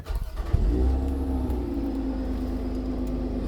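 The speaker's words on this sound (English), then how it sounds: "Put it in a sport mode, here's a couple revs." A supercharged V6 in a first edition Lotus Emira fires up with a sharp catch, settles into a low, strong idle, then hums steadily at close range.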